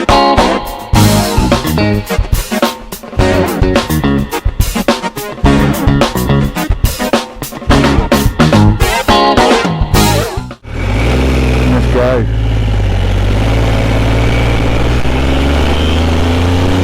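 A Triumph Sprint 900 motorcycle revving and pulling away hard, its engine loud and close with rapid gear-shift bursts, then settling into a steady droning cruise with wind rush.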